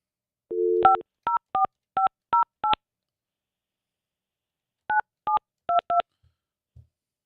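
A landline telephone keypad being dialed, one long tone followed by a quick run of five short DTMF beeps, a pause, then four more evenly spaced beeps, clear and close with no talking.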